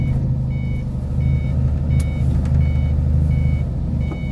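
Loud, close truck idling at a diesel fuel station while it manoeuvres, its reversing alarm beeping steadily about twice a second over the heavy low engine rumble.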